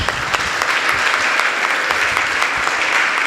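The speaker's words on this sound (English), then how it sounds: "I hope this applause is not for me, but it is for Barnes" Audience applause at a school prize day, loud and close, a thick, continuous burst of many people clapping that stays strong from start to finish.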